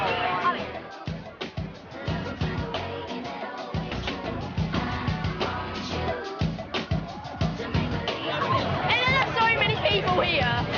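Dense crowd chatter fills an after-prom party, many overlapping voices forming a loud, continuous babble with occasional shouts rising from the mix.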